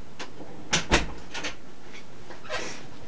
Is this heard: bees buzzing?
no